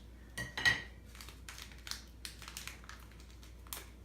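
Sanitized scissors snip open a yeast packet for a Mr. Beer Classic American Light home brew, giving a short crisp cut and crinkle near the start followed by faint scattered handling clicks.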